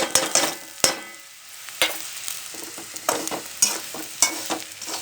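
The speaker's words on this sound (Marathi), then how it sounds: "हा कांदा फ्राय झालेला आहे. आता त्याच्यात हे सगळं आधीचं मटेरियल आपण टाकू." Fried onion with earlier-prepared ingredients added sizzles steadily in a hot pan, broken by sharp clanks and scrapes of a spoon stirring at irregular intervals, close and fairly loud with no talk.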